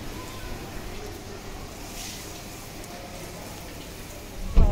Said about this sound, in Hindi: बारिश आ रही है बाहर